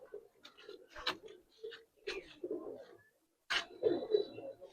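Giribaz silver pigeons in a loft coo in low, soft bursts, a few calls rising and fading across the span with brief quiet gaps.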